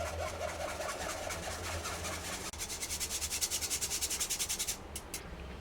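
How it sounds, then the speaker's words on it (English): Cake flour for okonomiyaki batter is sifted through a metal strainer, making a steady scratchy rubbing sound that turns into a fast rhythmic tapping shake, close and fairly loud, then stops abruptly. "I'm going to use this strainer to shift it."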